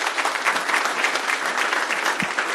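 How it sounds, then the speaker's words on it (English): Loud, dense applause from a conference audience at the close of a Hardwear.io talk, many hands clapping steadily and close for the whole stretch. "Please give another applause for Sergey."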